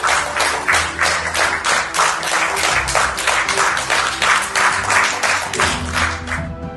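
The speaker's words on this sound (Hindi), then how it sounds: "केंद्रीय मंत्रियों ने पीएम मोदी के स्वागत में खड़े होकर तालियां बजाते हुए" Cabinet ministers stand and applaud PM Modi at a cabinet meeting, their many hands clapping in loud, rhythmic unison at a steady beat of roughly three claps per second.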